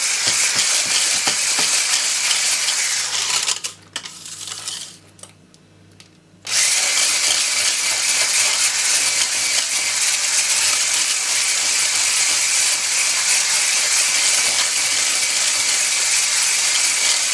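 Nut roll mixture whisked in a bowl with an electric whisk, a loud continuous close whirring drone that dips and cuts out for a few seconds midway, then resumes steadily to the end.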